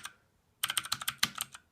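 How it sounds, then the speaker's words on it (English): A HAVIT wired mechanical gaming keyboard with blue LED backlighting and blue switches: one close keystroke, a short pause, then a quick burst of about nine sharp, clicky key presses. "it's loud. And I know that's the nature of mechanical keyboards"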